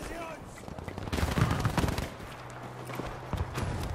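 Bursts of gunfire from a Battlefield 5 firefight, several rapid volleys of shots loud and close, with sharper cracks toward the end and other combat noise underneath.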